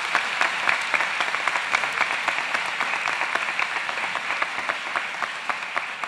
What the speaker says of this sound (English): I want you to give them a round of applause so they know you know they're there.